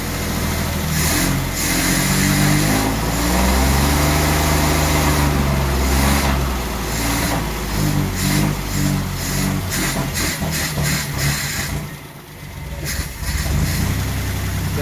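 A 1964 Triumph P2500 barn find, with its choke needed, runs with a loud, close, uneven engine note that rises and dips in rough pulses, sags briefly near the end, then picks up again.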